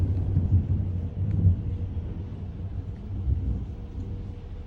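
Low, rolling thunder rumbles steadily through a rainy day after lightning, a continuous distant roar with a couple of slightly stronger swells and no talk over it.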